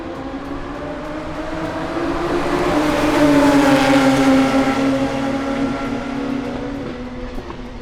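P3 Series race cars at Homestead-Miami Speedway accelerating together at a race start, a loud sustained engine drone with rising and shifting tones that swells to a peak midway and stays strong as the pack runs close.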